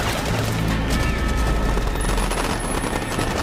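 Dense gunfire from the 2014 film The Hunger Games: Mockingjay Part 1 plays as a continuous loud roar of rapid shots and blasts, with no distinct gaps and no talking.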